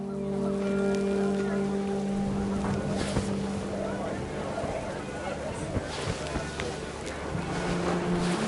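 Heavy rain pours steadily in the video game What Remains of Edith Finch, a constant broadband hiss with low rumbling tones, running under a narrating voice.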